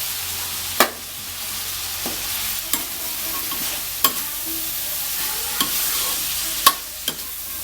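Meat and coconut stir-frying in a hot pan for a long-bean dish: a steady, close sizzle broken by sharp spatula scrapes and clicks every second or so, with no voices.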